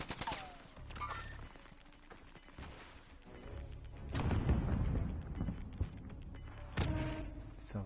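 Bursts of gunfire from a poorly modded weapon with heavy recoil in the online shooter Warzone, repeating in loud clusters over the game's ambient noise.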